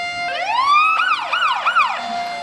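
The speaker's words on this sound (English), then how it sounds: "No problem with the horns or the sirens on any of the public service vehicles here in Royal Oak" Emergency vehicle sirens sound at a Memorial Day parade in Royal Oak, Michigan: a loud, close siren rises in a long sweep, then yelps through three quick wails before settling back to a steady tone.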